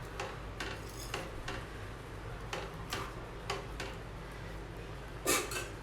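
Mango dal being stirred in a pan, with a spoon tapping and scraping the metal in a loose series of sharp clicks and clinks, close by over a quiet kitchen background, with one louder clatter near the end.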